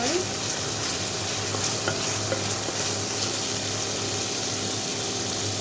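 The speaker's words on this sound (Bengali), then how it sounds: "চিচিঙ্গা, এটা ফ্রাই আবার মানে ভুনা ভুনা হবে" Snake gourd fries on an induction cooker, a steady, loud hiss and sizzle filling the whole stretch, with the cooker's constant hum beneath and occasional faint stirring scrapes.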